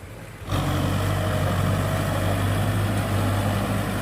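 The big M60 tractor engine starts loud and close after a quiet moment in the rice fields, then holds a steady, heavy diesel rumble to the end.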